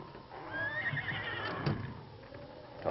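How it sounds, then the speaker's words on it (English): A horse whinnies inside a barn in an old western radio drama, a rising, wavering neigh that runs across most of the moment with faint hoof clops beneath it and no talk. "We'll look at the horses."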